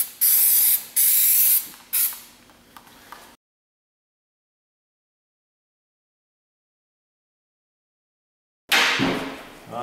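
Aerosol cleaner sprayed during a clutch replacement on a Ford Fiesta with a DPS6 Powershift transmission, several short close hissing bursts followed by silence, then another long spray.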